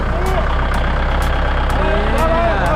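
A farm tractor engine runs close by with a loud, steady rumbling idle and a rapid low throb, while voices talk over it.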